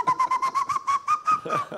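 A person whistles an imitation of an owl's hoot on a game show, a quick series of about ten short, rhythmic pulsed whistle notes, close and clear.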